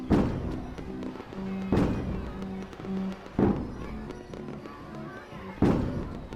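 Fireworks at a carnival boom in the horror video game Letters of Bernard Thorne, four loud bursts spaced about every second and a half over a sustained musical tone.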